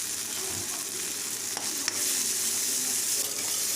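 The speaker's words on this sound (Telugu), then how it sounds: "అలాగే 1/2 టీ స్పూన్ పసుపు కూడా వేసుకోవాలండి." Ginger garlic paste and turmeric fry in a pan for a brinjal tomato curry, a loud continuous sizzle with brief stirring scrapes close by, with no voice.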